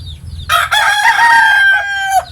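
A labuyo rooster crows once, loud and close, a strained drawn-out call rising then trailing off over a faint background.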